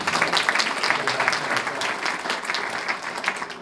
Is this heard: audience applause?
yes